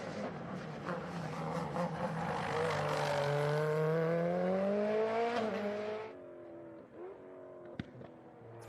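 McLaren Senna driven hard on a racing circuit by Tony Kanaan, loud engine rising in pitch through the gears before a shift and steady high revs, commentary voices faintly underneath.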